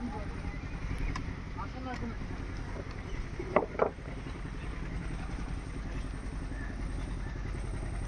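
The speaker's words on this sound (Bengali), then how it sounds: "এই ট্রলারটি মাছ ধরে নিয়ে যাচ্ছে।" A fishing trawler returning with a catch of hilsa drones on open water, its engine a steady low rumble with wind noise, while voices talk nearby and a couple of brief knocks stand out midway.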